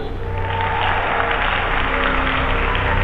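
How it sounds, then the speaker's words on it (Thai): Steady applause in the Poppy Playtime Chapter 3 game trailer fills the space, many hands clapping together in a dense, continuous wash that holds for the whole stretch without pause. "ปรบมือ"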